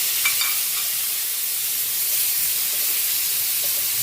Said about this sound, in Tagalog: Lagyan na rin natin yung ating sahog chicken at liver chicken.